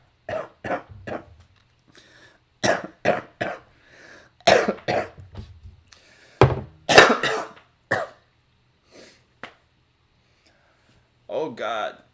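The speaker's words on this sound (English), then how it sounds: "now I'm coughing like 5 times as much." Someone with cold symptoms coughs repeatedly indoors, sharp close bursts in short clusters with throat clearing, separated by quiet pauses and a final raspy cough.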